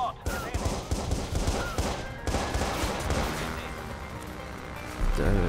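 Police fire rapid bursts of gunshots in the video game Watch Dogs during a motocross motorcycle chase, loud and continuous with crashing impacts, while someone talks over it.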